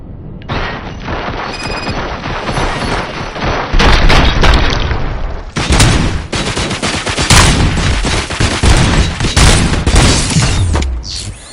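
Sustained automatic gunfire rattles in a dense, loud burst from a firing squad in Robocop 3, briefly dipping before a second heavier volley with booming impacts and clattering mechanisms.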